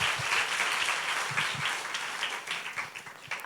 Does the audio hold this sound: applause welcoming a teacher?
yes